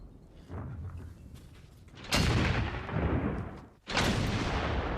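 World War I artillery bombardment in 1917 brings two heavy, booming explosions with long rolling rumbles, one after the other, over a low distant background.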